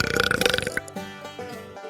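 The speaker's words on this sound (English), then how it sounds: "I award them with the dreaded Undercountry Music News Wet Belch of the Week." One wet, gurgling belch, loud and close, runs with a bubbly rattle for under a second, then trails off into faint tones.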